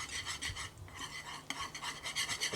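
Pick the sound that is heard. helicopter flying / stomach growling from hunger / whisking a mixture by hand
whisking a mixture by hand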